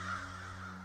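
Crows cawing as a sound effect during a tabletop role-playing game session, one drawn-out harsh caw rising and then fading, loud and close, with no talk over it.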